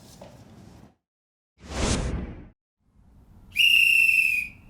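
A single shrill whistle blast rings out near the end, loud and sustained for about a second, following a separate whooshing sweep and stretches of low rumble.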